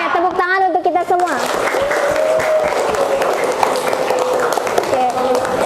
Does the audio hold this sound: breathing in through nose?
no